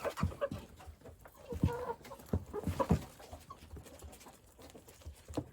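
Young roosters about two months old cluck softly and peck at feed, with scattered clucks and light pattering pecks close by.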